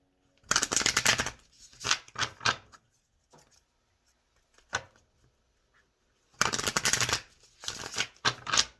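Two bursts of card shuffling, a riffle of tarot cards followed later by a second longer riffle, with scattered taps and soft card handling in between.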